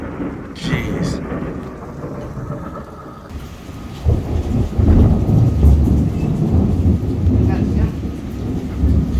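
A night thunderstorm at an airfield: thunder rumbles continuously over steady rain, growing louder and heavier after about four seconds and staying loud to the end.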